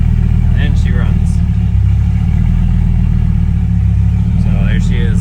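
A Dodge Ram SRT-10 with its Viper V10 idles close by, a loud, steady low rumble with a lumpy pulse that holds throughout, while a person talks briefly over it near the start and end.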